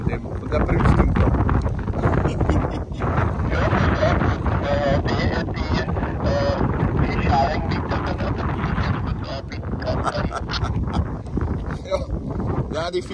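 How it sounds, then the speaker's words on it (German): Gusty wind buffets the microphone outdoors in a constant roar, with someone speaking German over it and occasional goose-like honks in the background. "Oh, da geht der Wind, ich muss aufpassen"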